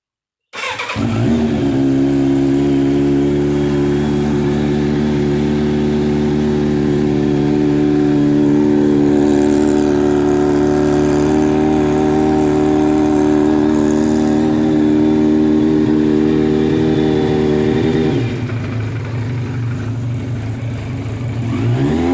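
A Yamaha FZR750 motorcycle fires up from cold on choke after sitting overnight, settling into a loud, steady, rumbling idle that holds for about twenty seconds before the pitch drops slightly near the end.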